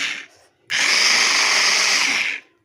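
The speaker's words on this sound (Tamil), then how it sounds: "இது ஒரு சாப்பர் புதுசாக வாங்கினேன். ரொம்ப நல்லாயிருக்குப்பா வெங்காயம் திருகிறதுக்கு." A rechargeable electric chopper whirs loudly while chopping onions, with a brief burst, a short pause, then one steady high-pitched motor run of nearly two seconds that cuts off sharply.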